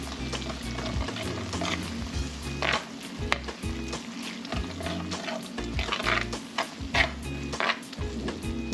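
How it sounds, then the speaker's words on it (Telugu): Ginger garlic paste sizzles in hot oil in a pot while being stirred for a Telangana fish curry, with steady frying hiss and repeated scraping knocks of the spoon close by. "ఇది కూడా బాగా వేగాలి."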